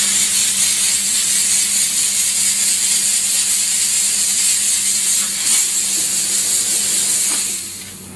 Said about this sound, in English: we'll briefly rinse out as much wine as we can using this vacuum and steam gun